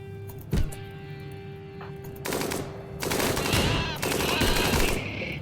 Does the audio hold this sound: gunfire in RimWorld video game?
yes